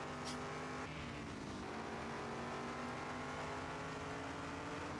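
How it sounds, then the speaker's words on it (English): A race car engine roars very loudly and continuously on track during a race, a dense sustained howl with a shift in pitch about a second in, close and dominant with no talk. "that's just still Leiper's engine"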